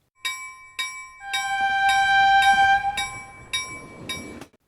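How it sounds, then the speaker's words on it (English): A futuristic electromagnetic-track train rings a bell in repeated sharp chimes while sustained horn-like tones swell as it pulls away from the station, no voices present. "The train speeds out of New Gallup on its electromag track"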